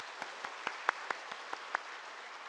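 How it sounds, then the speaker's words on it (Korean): Sparse applause for a pastor at a Korean church gathering, a handful of separate claps ringing out one by one in an irregular rhythm over a quiet room, fairly faint and without speech. "우리 목사님께 박수 한번 드리겠습니다"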